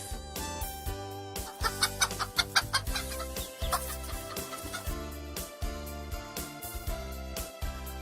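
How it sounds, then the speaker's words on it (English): A hen clucks in repeated short bursts over steady background music in an animated children's environmental studies lesson. "Hen gives eggs."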